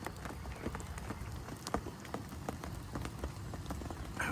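Steady rain falls throughout along a French canal, an even dense patter of drops with a few sharper nearby splashes, no voices heard.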